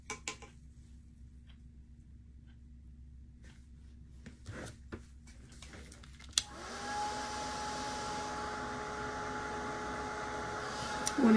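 A hair dryer drying acrylic paint on a painted snowman nose kicks on after a few quiet seconds of faint handling clicks, then blows as a steady, moderately loud whooshing hum to the end, with no talking.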